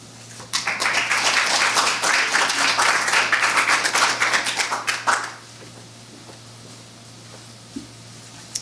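A TEDx audience claps in sustained applause for about five seconds, a dense wash of hand claps that then stops abruptly, leaving quiet room tone with a faint steady hum.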